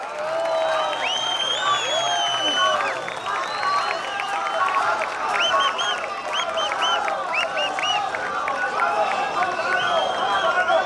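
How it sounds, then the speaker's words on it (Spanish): A festival crowd at the Quema del Diablo celebration applauds and cheers, with many overlapping shouts and whoops riding over steady clapping throughout. "¡Aplausos!"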